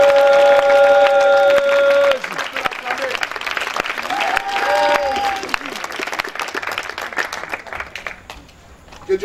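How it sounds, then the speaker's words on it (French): A church congregation at a spiritual retreat applauds loudly and steadily, a dense wash of clapping that starts over sustained organ-like tones and continues as the music fades, with voices calling out beneath. "On peut l'acclamer."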